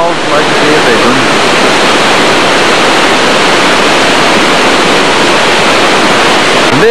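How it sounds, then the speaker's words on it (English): A small waterfall where a little side creek, Tamarack Creek, tumbles into Cascade Creek near a bridge, giving a loud, steady, close rush of water that continues unbroken throughout. "See, there's a little creek running into this one. Little falls"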